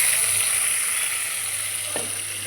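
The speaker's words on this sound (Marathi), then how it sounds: "एकीकडे मी तेल गरम करायला ठेवलेलं आहे कढईत. त्यात कांदा आणि टोमॅटो टाकते" Onion and tomato sizzle steadily in hot oil in a wok, a bright continuous frying hiss held close and loud for the whole span with no voices over it.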